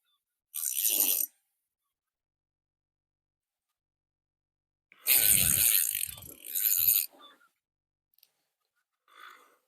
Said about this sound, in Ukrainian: навіть фрикціончик трішки працює